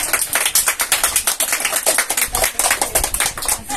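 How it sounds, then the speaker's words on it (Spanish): A small group claps steadily in dense, fast, close-up applause at a toy giveaway for children, with no talk over it. "yo creo que sí, se merece un aplauso"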